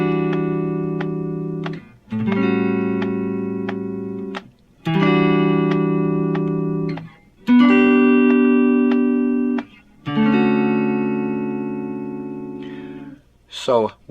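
Electric guitar playing a chord lead-in to the break: a series of sustained, ringing chords struck one after another, each left to decay before the next, close and clean, with a short brushy sound at the end.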